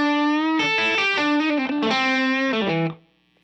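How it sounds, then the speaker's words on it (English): Electric guitar through a Greer Lightspeed overdrive pedal set for a non-boosted rhythm tone, playing a short melodic run of bright, harmonically rich notes that ends with a quick fade into silence. "Here's the Greer Lightspeed without the boosted lead."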